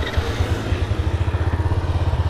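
A Honda Astrea Grand motorcycle with a bobokan exhaust idles close by in a steady, deep, pulsing rhythm of low thumps, with no one speaking.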